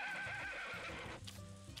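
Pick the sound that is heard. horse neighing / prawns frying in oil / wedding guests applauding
horse neighing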